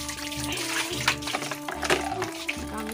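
Tap water pours into a bucket, a continuous splashing rush with a low hum and a few knocks, heard close up.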